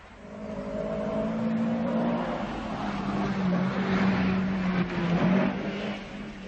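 A rally car at Rally Danube 1978 runs along a forest track, its engine droning and rising as it nears and revs, moderately close, with no talking.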